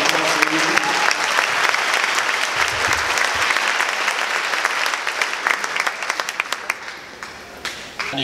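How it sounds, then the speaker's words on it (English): Sustained audience applause at a youth baseball awards ceremony, dense and steady clapping from a crowd that carries on for several seconds before gradually thinning toward the end. "Big round of applause for you."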